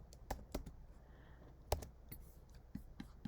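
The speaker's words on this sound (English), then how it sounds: "we'll type my favorite word" Scattered keystrokes on a computer keyboard spell out a single word, a few sharp close clicks spaced irregularly over a quiet background.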